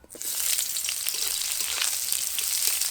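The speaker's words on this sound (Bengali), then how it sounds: "পেঁয়াজটাকে একদম বাদামি রং ধরা পর্যন্ত ভেজে নেব" Chopped onions fry in mustard oil, a dense, steady crackling sizzle that starts right away and stays close and even throughout.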